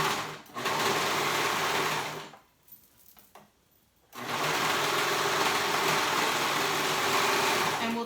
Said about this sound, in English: I'm going to go ahead and sew that side seam.